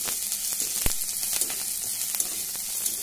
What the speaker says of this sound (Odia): ବର୍ତ୍ତମାନ ଦେଖନ୍ତୁ ପିଆଜ ଆମର ଭାଜିକି ପୁରା ଲାଲ ହୋଇଗଲାଣି